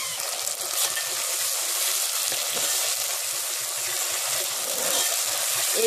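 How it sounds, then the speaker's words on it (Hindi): Onions, white cumin and ginger-garlic paste frying in a pan, giving a continuous dense sizzle close by that holds steady for the whole stretch, with no voices. "एक 2 मिनट तक इसको अदरक लहसुन के पेस्ट के साथ फ्राई करेंगे"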